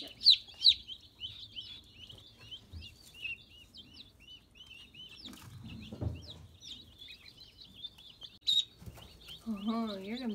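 Several guinea fowl on a farm call repeatedly in short, sharp chirping cries, fairly close and steady throughout, with some low handling noise and a brief burst of rapid calling near the end.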